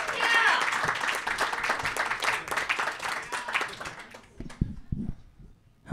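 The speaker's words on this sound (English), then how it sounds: "Start clapping right now for King Hooker, man." Comedy podcast audience clapping, a dense burst of applause that fills the first few seconds and then thins out, fading to scattered claps and a voice near the end.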